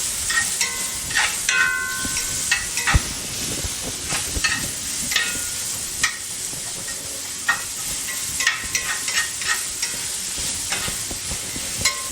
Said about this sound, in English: now I'm going to go ahead and mix this together